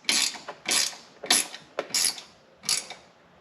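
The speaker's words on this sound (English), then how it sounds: "so I'm just going to try to tighten it, but without going too crazy, because it's just holding my wing mirrors" Ratcheting bursts as wing mirror bolts are tightened on a 2022 Can-Am Commander, five or six short clicking strokes in an uneven rhythm, close and fairly loud with no talking.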